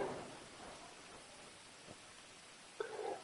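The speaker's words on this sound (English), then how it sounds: "the rain is still going" Steady rain in the video game GTA V Online, a continuous soft hiss of falling drops at low level, with a brief louder burst near the end.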